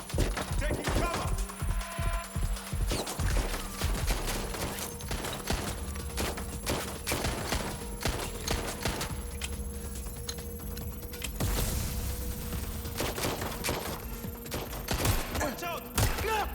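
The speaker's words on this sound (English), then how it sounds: "They're shooting at us!" Gunfire in the Watch Dogs: Legion video game, a dense, continuous stretch of shots and impacts layered with game sound effects and music.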